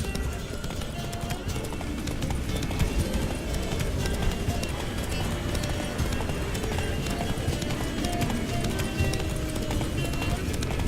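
Roach, Geralt's horse in The Witcher 3, gallops in a steady, continuous clip-clop of hooves under a dense game soundscape, with an occasional whinny and a voice talking over the running.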